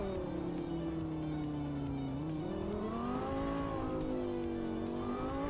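Lamborghini Murcielago SV engine in a racing video game, a continuous droning roar that holds low, then climbs in pitch as it revs up, staying close and steady throughout.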